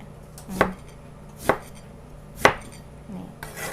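A knife chops through a large eggplant onto a cutting board, three distinct crisp strikes about a second apart, close and fairly quiet.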